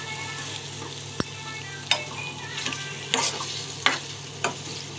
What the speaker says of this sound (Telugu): పన్నీర్ పీసెస్ ఫ్రై అవుతున్నాయి